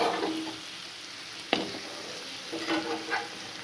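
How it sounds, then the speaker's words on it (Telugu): Pieces of fried fish go into sizzling masala in a pan for a tangy chittakayi fish curry, the oil frying steadily with a sharp clunk as they land and a few stirring scrapes after. "మనం ఫ్రై చేసి ఉంచుకున్న ఫిష్ని ఇలా వేసుకోవాలి."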